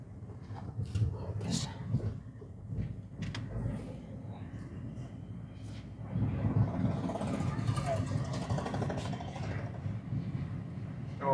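Road traffic near an airport in Nepal rumbles and swells in the background, a low continuous wash of passing vehicles that grows louder partway through, with people talking over it.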